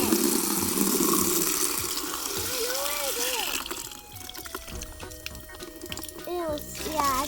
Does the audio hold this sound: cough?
no